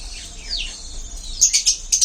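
Caged pet breeding birds on a farm give a few thin, high chirps and short tweets, fairly close and clear, with quiet background.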